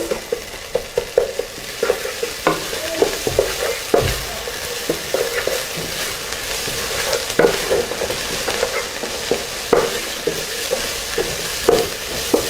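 Four cloves of crushed garlic fry with onions in a pan, giving a steady close sizzle broken by frequent clicks and scrapes of stirring, with no talking.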